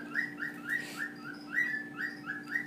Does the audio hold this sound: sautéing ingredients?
no